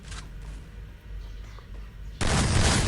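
A shooting video game plays out, with a faint rattle of gunfire low in the mix at first and then a loud, sustained burst of shots filling the last second.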